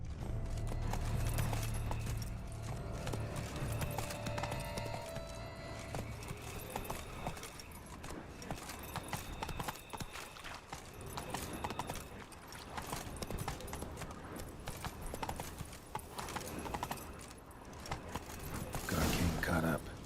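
Roach, the horse in The Witcher 3, gallops with steady rapid hoofbeats and some jangling tack, running throughout under in-game voices and ambient sound, moderately loud and close.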